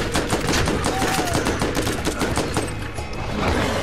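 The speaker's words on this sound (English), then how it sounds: "critical in the head from my assault rifle" Rapid assault rifle fire from the video game Borderlands rattles in a dense, loud, continuous stream of shots lasting a few seconds.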